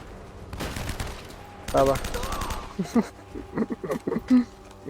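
Bursts of rapid gunfire in the video game Uncharted: Drake's Fortune, loud and close, followed by someone talking excitedly in short phrases.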